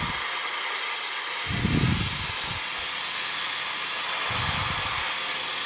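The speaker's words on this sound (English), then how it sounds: "There's the steam on slow speed. I'm just going to crank it up here full tilt." An Oreck steam mop on tile grout, with a loud, steady hiss of steam at full output running throughout and low thumps now and then as it slides back and forth.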